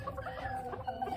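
Mille Fleur and Barbu de Watermael bantam chickens, a Belgian breed, cluck steadily and close by in a short run of soft, overlapping calls, with no talk over them.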